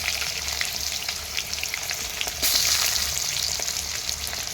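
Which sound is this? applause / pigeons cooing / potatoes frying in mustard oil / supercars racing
potatoes frying in mustard oil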